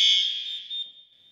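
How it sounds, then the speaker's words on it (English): A SHIELD OMEGA fire alarm control panel sounds a loud, steady high-pitched electronic alarm tone. It starts strong and fades slightly over a little more than a second, with no talking. "So we can silence the alarm."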